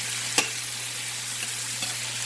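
Vegetables frying in a pan give a steady, close hiss of sizzling, with a sharp clatter as they are stirred and a few softer scrapes after, no talk.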